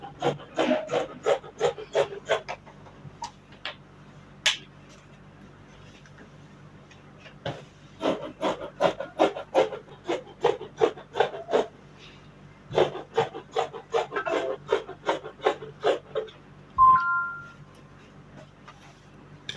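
Scissors cutting skirt fabric pieces on a table: bursts of rapid rasping snips in close, quiet clusters separated by pauses, with a short tonal sound near the end.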